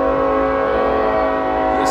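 A train's horn blares in a sustained, loud, steady tone over the rumble of the passing train, close by and dominating the scene for about two seconds.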